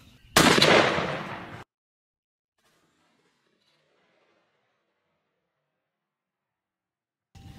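A Mossberg 940 Pro 12 gauge turkey shotgun loaded with a Jebs .660 choke and Rogue TSS shot fires one loud, sharp blast outdoors, the report decaying over about a second, then silence.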